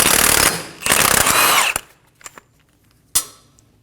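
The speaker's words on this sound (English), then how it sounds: "Using a 30mm socket, remove the axle nut." A power tool spinning off the axle nut with a 30mm socket on a 2008-2015 Scion xB front steering knuckle, two loud rattling bursts followed by a few metallic clinks and a sharp knock.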